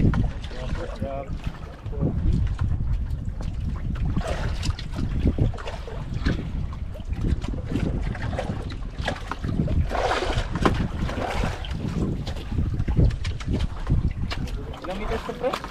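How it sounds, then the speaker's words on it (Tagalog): Strong wind buffets the microphone with a heavy, constant low rumble, and muffled voices can be heard beneath it. "medyo lumakas na yung hangin"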